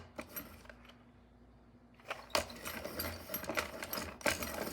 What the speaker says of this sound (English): with my pencil sharpener because my pencil is sharp and I was trying to still sharpen it